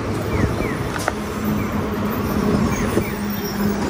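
A bus rumbles along with a constant low road and engine noise heard from inside, plus faint rattles and squeaks, at a moderate level.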